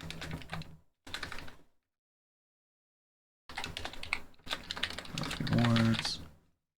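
Bursts of computer keyboard typing come in short separated runs with silent gaps between, close and fairly quiet.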